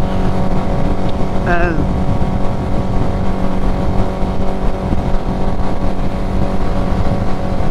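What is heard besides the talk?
motorcycle riding at speed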